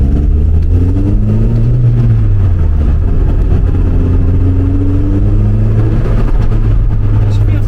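A Mini car fitted with a Honda K20 VTEC engine drives along, a loud, steady engine drone with gently rising and falling pitch as the revs shift, heard from inside the cabin.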